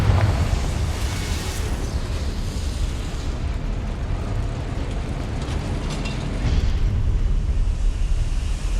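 Confringo blasting spell explosion in the video game Hogwarts Legacy: a loud, sustained roaring blast with broadband rumble and crackle filling the whole stretch, no speech over it.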